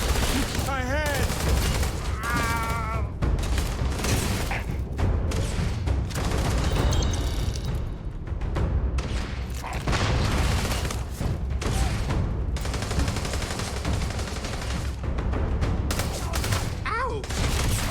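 Gunfire rattles almost nonstop in a Starfield firefight, dense bursts and volleys with occasional booms, loud and close. Shouting voices come through between shots.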